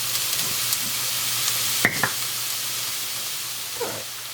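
Vegetables with salt sizzle softly in a pan for shepherd's pie, a steady low hiss with a couple of brief stirring scrapes and clicks, no talking.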